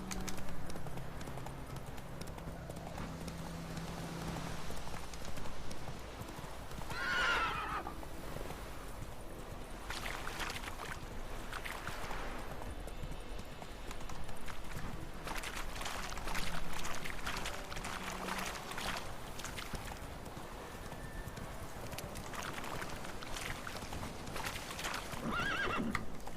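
Roach, the horse in The Witcher 3, gallops with steady clip-clop hoofbeats and lets out a neigh, over a quiet game soundscape with a few scattered voices.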